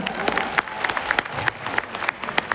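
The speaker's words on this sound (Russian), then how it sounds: "Ваши аплодисменты." An audience at an award ceremony applauds steadily, a broad bed of many hands with sharper individual claps popping out close by, loud and continuous for the whole stretch.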